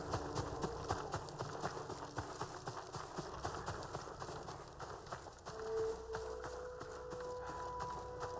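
Steady, rhythmic hoofbeats of a horse galloping away in the video game Ghost of Tsushima drum along, fairly quiet, over a faint background hum, with no talking.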